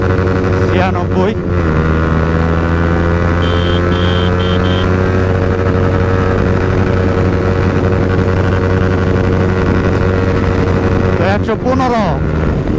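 Yamaha R15M BS7 motorcycle pulling hard in 4th gear, a steady loud engine drone with harmonics climbing in pitch, a brief burst of higher whine mid-run and a rising shift near the end.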